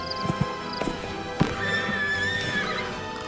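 A tired horse neighs and whinnies in a stable, the call rising clearly over soft clip-clop hoof sounds and light shuffling, close and fairly loud with no talking.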